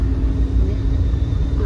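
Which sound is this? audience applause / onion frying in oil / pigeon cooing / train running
train running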